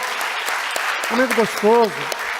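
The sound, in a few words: congregation applause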